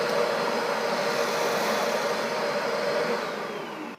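A carpet cleaning machine vacuums with an upholstery tool attached, giving a steady, loud, continuous motor roar and suction whoosh that holds even throughout before easing slightly at the end.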